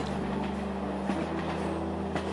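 A train travels steadily, with a constant low rumble and a faint rhythmic clatter, used as a background sound effect in an audiobook.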